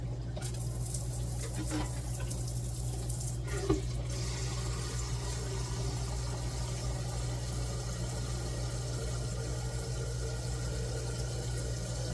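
Water runs steadily from a tap, a faint continuous hiss and splash with a low hum underneath.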